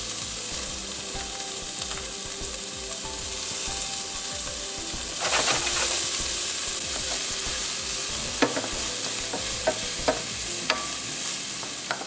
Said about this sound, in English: what I'm going to do now is add the mirepoix